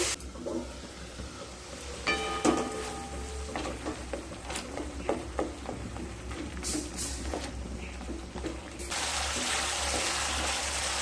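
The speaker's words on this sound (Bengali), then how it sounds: "মশলাগুলোকে খুব ভালোভাবে কষিয়ে নিয়ে তারপর ফিরে আসছি" Spices sauté in a pan with a splash of water while cooking mung dal with summer vegetables: a soft, steady sizzle with scattered ticks and scraping stir clicks, and a louder hissing surge near the end.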